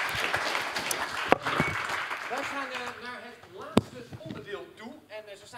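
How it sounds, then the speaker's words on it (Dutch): Audience at a public discussion about diversity in the police claps warmly, a dense patter of hands with two sharp loud claps standing out, while voices talk over it. "Geef een warm applaus."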